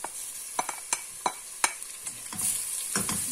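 Bell pepper hits a hot pan for soup, with a run of sharp spatula taps and scrapes over a soft frying sizzle that swells louder toward the end, close by and without speech.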